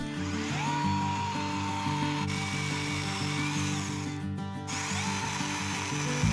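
A Makita brushless battery chainsaw runs continuously close by, its steady motor whine rising and holding through a cut into a tree, with no talk.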